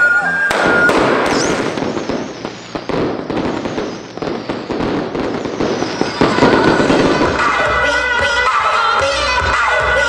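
Fireworks set off to celebrate a business opening, a dense run of loud cracking bursts and crackles lasting throughout, with denser overlapping pops and whistling toward the end.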